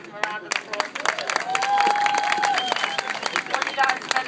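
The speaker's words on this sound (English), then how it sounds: "Please give him a round of applause." Applause from a sports-event audience at Princeton swells and holds for several seconds, dense clapping with a few whoops and voices mixed in.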